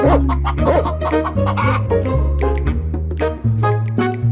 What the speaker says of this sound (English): "Cluck, cluck!" cried the hen as she ran.